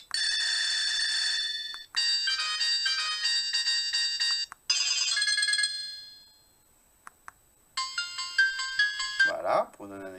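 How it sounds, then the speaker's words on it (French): A series of electronic ringtones from a Classic Alpha senior mobile phone, several distinct melodic tones played one after another with brief gaps, clear and close, ending in a short burst of a different chiming tone. "les sonneries du téléphone"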